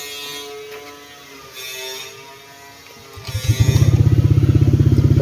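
A motorcycle with a weak battery cranks and then catches, settling into a loud, rapid, steady idle that chugs close by after a few seconds of quieter hum.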